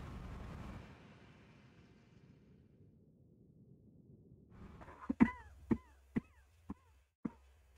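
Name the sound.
cough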